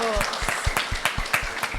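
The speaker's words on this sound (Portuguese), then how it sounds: "por favor, uma salva de palmas para os corajosos" Scattered claps from a small group ring out in an uneven rhythm, with voices chattering underneath.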